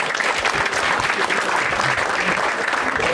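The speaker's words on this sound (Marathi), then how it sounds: "एकदा या दोघांसाठी टाळ्या वाजवा" Audience applause for two people at a live Marathi stand-up comedy show, dense steady clapping from a full crowd filling the room without a break.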